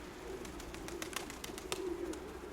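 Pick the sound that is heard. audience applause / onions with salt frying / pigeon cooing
pigeon cooing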